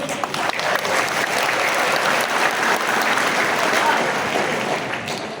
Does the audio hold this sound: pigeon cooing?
no